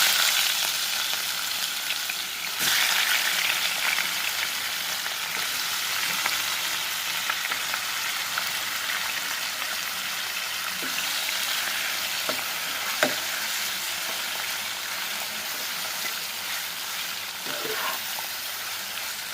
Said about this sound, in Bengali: এখন আবার মাংসগুলো লাল করে নিব একটু